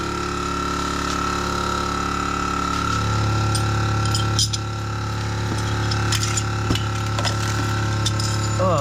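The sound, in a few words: ratchet wrenches clicking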